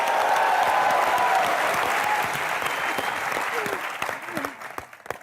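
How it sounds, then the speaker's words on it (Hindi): Loud, dense applause from a studio audience greeting a guest on a comedy show, strong at first and thinning out, with voices starting to speak as it fades. "मैं आपकी जोरदार तालियों के बीच इनवाइट करना चाहूंगा एकता।"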